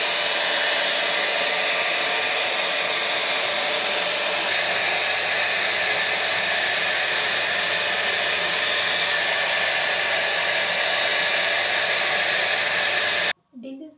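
A TikTok-sent knockoff of a Dyson hair dryer runs with a steady, loud, close whir for about thirteen seconds and then clicks off abruptly.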